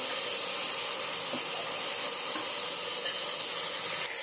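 Peeled, cut potatoes hit a hot pan of brinjal gravy and set off a steady, loud, hissing sizzle that runs without a break before dropping slightly at the end.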